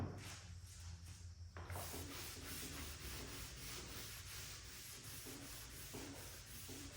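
A rag soaked in alcohol is wiped over a car body panel before spray painting, giving a steady rubbing, sanding-like swish that continues for several seconds, close and moderately loud, with no talking.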